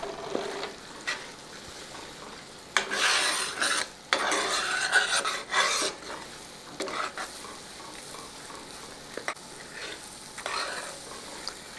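Flour and Hershey's cocoa are stirred together in a bowl to break up lumps, with irregular scraping, rasping strokes of a utensil against the bowl that come in close bursts and pauses.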